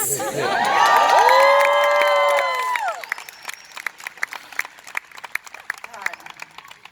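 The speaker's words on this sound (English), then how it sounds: "And now keep that applause going" Convention crowd at the WonderCon 2019 Dark Phoenix panel erupts in loud cheering and whoops, then settles into sustained, scattered clapping from a large audience.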